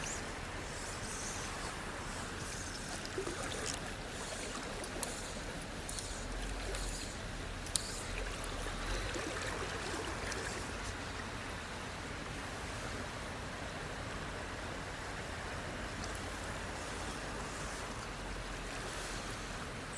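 A rocky stream flows on steadily throughout, with water rushing past large rocks near a bridge on an autumn river. The rush stays broad and constant for the whole stretch, moderately close, and no one speaks.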